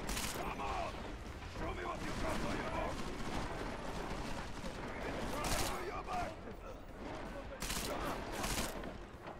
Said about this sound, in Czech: ono to střílí dávkama